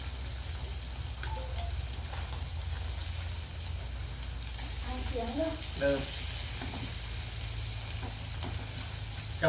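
Pork sizzles and crackles steadily on a hot Thai grill pan, a continuous frying hiss with a few brief faint sounds over it.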